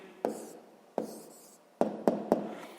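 A pen writes out an answer to a sixth-grade math exercise by hand, five distinct taps and short scratching strokes, close and fairly quiet, with no speech.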